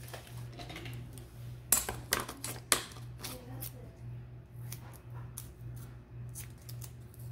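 Several quick snips of scissors cutting double-sided tape, a cluster of sharp close clicks and crisp cuts in the middle, followed by softer handling rustles over a low steady hum.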